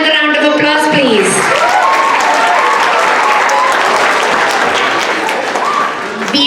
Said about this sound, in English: Can I have another round of applause, please?